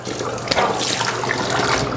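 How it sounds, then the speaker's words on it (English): Running water sloshes continuously with a sharp splash partway through, like water thrown onto a face over a sink, close and fairly loud. "grab some water"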